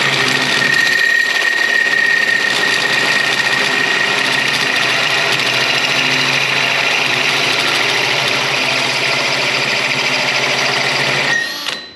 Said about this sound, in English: I don't like to force the blades. It's real easy to burn up these hole saw bits.